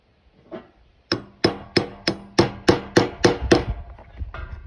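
Steel punch struck by a hammer to seat a rivet burr on a scabbard for a two-man crosscut saw: about ten sharp, ringing blows at a brisk steady pace, close and loud, with no one speaking.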